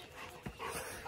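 A dog gives a short whimper and some soft panting breaths close by, in a quiet room during an evening at home.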